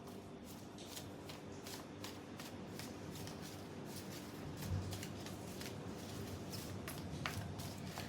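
Tarot cards being shuffled close by during a Scorpio reading, a steady run of soft riffling and papery flicks that repeat in quick bursts, with no talking over them.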